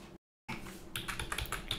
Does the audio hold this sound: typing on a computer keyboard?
yes